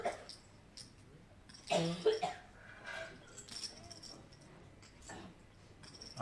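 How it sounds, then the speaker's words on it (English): Poker player coughing at a live tournament table during a high-roller event in Hanoi, a cluster of several harsh coughs near the middle, fairly close and moderately loud over quiet room ambience. "Bit of a coughing fit."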